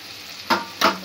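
Garlic and spices fry in a pan for masoor dal, a low steady sizzle broken by two short, sharp bursts of stirring or spattering close by.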